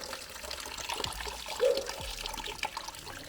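Spring water trickles and splashes outdoors near a rural water source, a soft steady flow with small gurgles and one brief louder splash midway, heard alone without talk.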